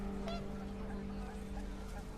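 Panicked geese honking in a video game, a brief flurry of calls over steady droning game ambience with a low hum throughout.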